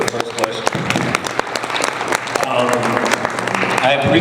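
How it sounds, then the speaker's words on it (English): An audience applauds panelists at a youth leaders' think tank and listening session, steady dense clapping filling the room for about four seconds, with some voices mixed in. "Can we give a round of applause to our panelists for the first question?"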